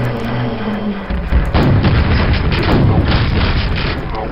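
Rocket explosions in the video game Quake, a series of heavy booming blasts that follow one another in quick succession, loud and close, with rumbling low-end bursts overlapping throughout.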